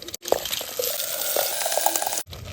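Lentils for panchratna dal tumble into a pan and are stirred, giving a short burst of wet, splashy scraping and bubbling after a brief pause, with soft clinks along the way.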